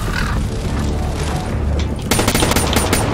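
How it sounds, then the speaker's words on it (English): Dense rumbling explosions give way to a rapid, loud burst of gunfire in the second half, a constant noisy battle din throughout, in the video game Call of Duty: Black Ops 3. "Watch it, those red things are explosions."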